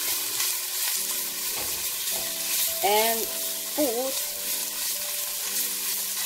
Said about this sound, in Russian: прожарю с капустой